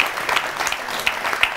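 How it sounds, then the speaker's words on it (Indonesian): Studio audience applause on an Indonesian talk show, a brief burst of clapping at moderate level with scattered louder claps, no talk over it. "luar biasa tepuk tangan buat Angel Helga."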